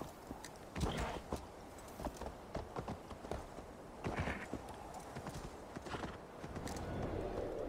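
Horse hooves clop steadily in a video game, a walking rhythm of hoofbeats with an occasional whinny, no voices over them.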